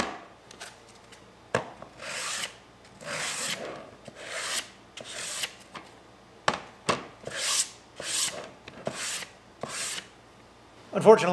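Steady rhythmic rasping of sanding an aluminum sheet, repeated strokes back and forth at close range, each pass a loud gritty scrape with short pauses between.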